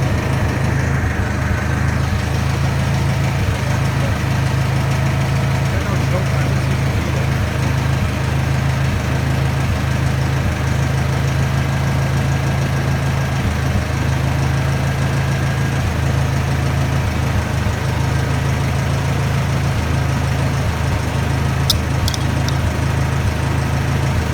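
Steady, loud idle of a Massey Ferguson 65 tractor engine just after starting, a continuous low-pitched rumble holding an even rhythm throughout with no talk over it.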